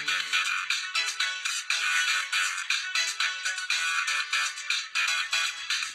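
A phone ringtone in a Gurung-language film plays a bright, repeating electronic melody, loud and steady with no voices over it.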